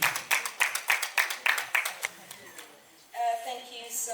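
A small audience gives brief, light applause to welcome a speaker at an International Women's Day event. The clapping is quick and rhythmic, fades after about two seconds, and is followed by a voice beginning to speak.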